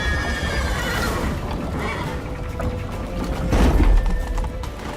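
A horse in The Witcher 3 whinnies over steady galloping hoofbeats, with a continuous rumble that swells louder near the end.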